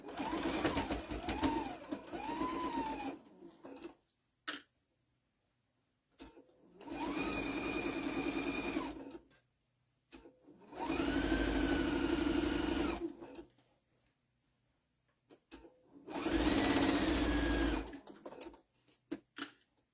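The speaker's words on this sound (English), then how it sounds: "Then I'll sew it a 1/4 all the way across." Sewing machine stitching a tea towel in four separate runs of steady mechanical whirring, each a couple of seconds long, with near silence between them.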